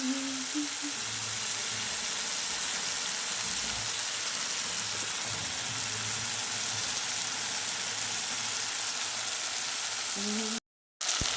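Tilapia curry with onion leaves and tomato sizzles in hot oil in a pan, giving a steady, loud hiss that runs unbroken and cuts out for a moment near the end. A faint voice is heard briefly near the start.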